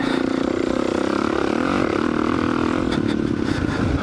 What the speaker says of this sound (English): The cold KLX470. Such an amazing bike. She's still warming up.